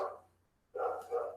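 Dogs bark nearby: one short bark, a brief pause, then a louder double bark, heard alone in a quiet room.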